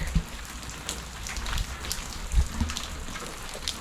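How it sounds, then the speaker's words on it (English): Rain falling outdoors around apartment buildings near a concrete channel drain, a steady close patter of drops on hard surfaces with scattered louder splashes and a low background wash. "So it's finally raining out here."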